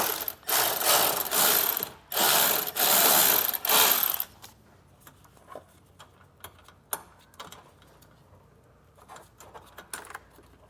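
A ratchet with a 10mm socket loosening the fastener that holds a 2023 vehicle's washer reservoir. It gives dense, loud clicking bursts for about four seconds, then scattered quieter clicks and clunks.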